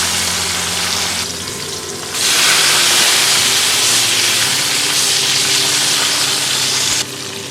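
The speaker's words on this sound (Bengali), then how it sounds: "তেল সুন্দর গরম হয়ে গেছে, এবার এই মাছগুলো আমি ভেজে নেব।" Large fish, cooked two at a time, fry in hot oil with a loud, dense sizzling hiss that swells sharply partway through and then eases, close and continuous with no talking.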